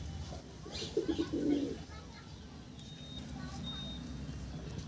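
A pigeon coos nearby in a short run of soft, throaty pulses, then quiet background hum with a faint distant chirp.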